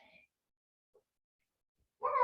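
A person imitates a cat's meow during a yoga cat pose, giving a short voiced mew near the end after a near-silent pause and a faint earlier sound.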